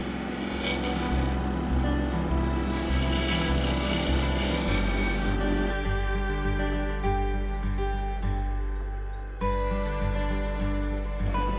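A wood lathe spins with a low steady hum while a roughing gouge shapes the turning wood, a continuous rasping scrape that changes tone partway through.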